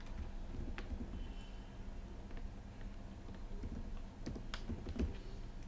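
Typing on a computer keyboard in an Excel spreadsheet: scattered soft key clicks over a quiet background hiss, with a few sharper taps near the end.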